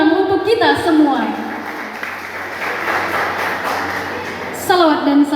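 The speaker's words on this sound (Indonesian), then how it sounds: "Beri tepuk tangan untuk kita semua." An audience at a thanksgiving ceremony for honorary workers becoming civil servants claps in a sustained round of applause between stretches of a speaker's voice over a PA.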